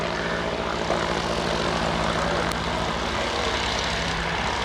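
A vintage aerobatic trainer aircraft flies at an air show, its propeller engine giving a loud, steady, broadband roar that fills the whole stretch with no talk over it.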